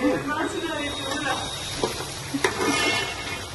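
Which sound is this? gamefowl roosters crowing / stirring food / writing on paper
stirring food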